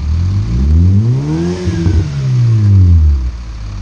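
A Hyundai HB20 1.6 with a sport exhaust muffler revs up outside, the engine climbing to a throaty peak, easing off, then rising again in a second loud, close rev before dropping away.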